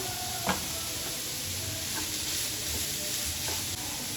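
Oil spitting over carrot stir-fry in a hot pan gives a dense, even hiss throughout, broken by a few faint ticks of a utensil, close and steady with no talking.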